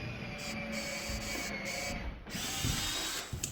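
A power drill bores holes in wood boards on an off-grid home build site, whirring in several short bursts with brief pauses between them, close by and with no talking.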